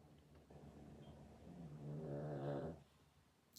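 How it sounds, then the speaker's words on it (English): A pet snores softly and steadily nearby, one drawn-out rumbling breath swelling and fading in a quiet room with no talking. "her snoring is so adorable"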